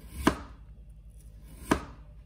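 A knife cuts thin slices from a potato, giving two sharp, distinct chops on a board about a second and a half apart, close and clear against a quiet kitchen.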